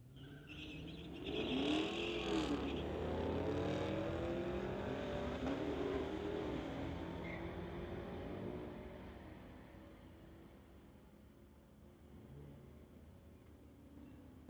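A Dodge and a 2016 Camaro launch in a street-legal drag race, engines revving and roaring as the cars pull away with sweeping pitch, fading into the distance with a faint tire chirp early on.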